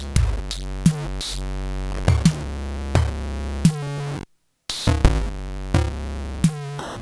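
Noisy, harsh patches from a Nord Micro Modular synthesizer: droning, buzzing tones punctuated by sharp percussive hits, with a brief dropout to silence midway, loud and up close.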